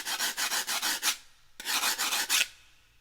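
A gourd rasp is scraped in quick repeated strokes, two separate bursts of rhythmic rasping close to the listener, with a short pause between them and no voices.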